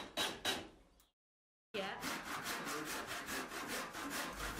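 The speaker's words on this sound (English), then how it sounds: "So I'm hand sawing a notch out of it" Rapid back-and-forth strokes of a handsaw cutting a notch in wood, a brief pause, then steady rhythmic sawing resumes, close and clear.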